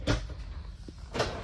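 A storage cabinet above the entertainment center of a 2024 Crossroads Zinger 380FB RV is opened or closed, giving two soft wooden knocks about a second apart in a quiet interior.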